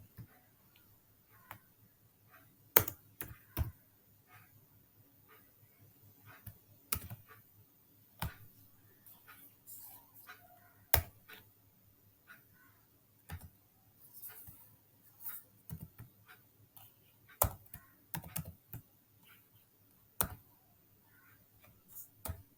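Sparse keyboard typing during the writing of a calculator expression in code, with quiet scattered key clicks and small bursts over about twenty seconds, faint and close, under a low steady hum and no talk.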